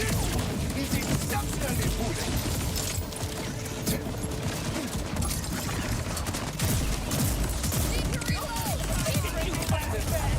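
Shotgun fire in Borderlands comes as dense, continuous combat clatter, with rapid overlapping blasts and mechanical rattles packed tightly together at a steady loud level for the whole stretch.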